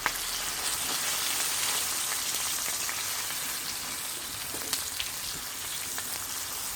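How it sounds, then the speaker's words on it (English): Chilies pop and crackle in hot oil while fish fries on a BBQ, a steady close sizzle broken by a few sharp pops. "See our chili's popping."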